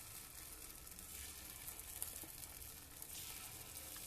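Batter sizzling in a hot oiled paniyaram pan on the stove, a steady close crackling hiss with faint pops throughout and no talk.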